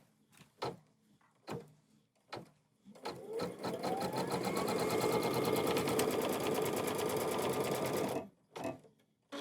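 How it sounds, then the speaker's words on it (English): Embroidery sewing machine stitching down a fabric triangle on a quilt block in the hoop, a steady rapid whir of needle strokes lasting about five seconds, framed by separate clicks and handling knocks before and after. "stitch this triangle down"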